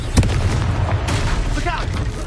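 Confringo spell explosions blast during Hogwarts Legacy combat, a booming burst with fiery crackle and rumble under a busy game soundtrack, with a voice speaking over the action.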